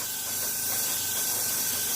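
Airbrush spraying paint with the nozzle about three-quarters open, a steady, close, loud airy hiss that holds constant throughout, with no voices over it.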